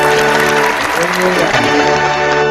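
Applause from an audience clapping steadily, loud and continuous, mixed with sustained tonal music.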